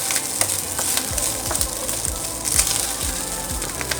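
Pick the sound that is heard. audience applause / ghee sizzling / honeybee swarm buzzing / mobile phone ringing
ghee sizzling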